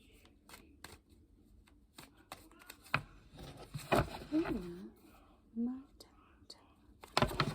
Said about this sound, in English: I'm just gonna shuffle some more